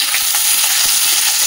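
Onions and mushrooms frying in oil make a continuous close crackling sizzle with light stirring, heard alone without speech.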